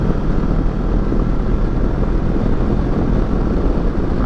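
A Kawasaki Versys 650 motorcycle rides along a good road, its steady engine drone blended with heavy rushing wind noise that holds constant and loud from start to finish.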